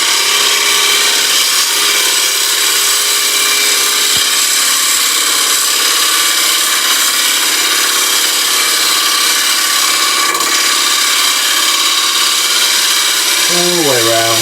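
A wood lathe makes a light finishing cut on a toffee dish, giving a steady, close whirring hiss that runs unbroken throughout, with a short low tone creeping in near the end.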